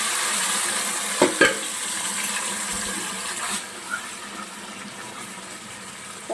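Chicken pieces frying in a pan for chicken biryani, a steady soft sizzle running throughout with a few brief clinks and stirring knocks, fairly quiet and with no talking.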